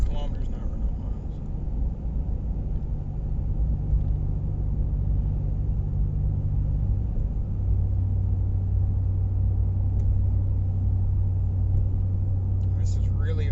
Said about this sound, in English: for cruising, this is it. This is the extent of the drone and the noise.